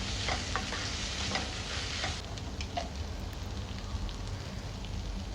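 Ginger garlic paste and shallots sautéing in a pan for Kerala-style chicken thoran give a steady, close sizzle and frying crackle, with scraping stirring noises over it throughout and no talking.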